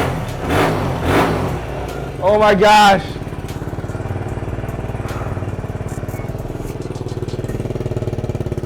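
Kawasaki Z125 motorcycle with a custom-built exhaust, close and loud: a few sharp revs and one strained high rev, then settling into a steady, rapid, lumpy idle, with people talking briefly over it.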